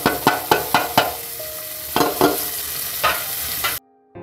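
Grated onion stirred in a hot pan, with a run of sharp scraping strokes against a steady sizzle that stops abruptly near the end.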